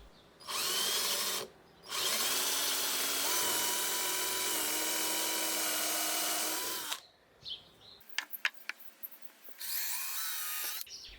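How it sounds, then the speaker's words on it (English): A power drill with a 4mm bit bores angled pilot holes into a pallet-wood workbench for bench dog holes, running in two long, loud, steady whines, then a few short clattering bursts and a final stretch of drilling. "Use your 4mm 5/32 inch bit to drill the pilot holes."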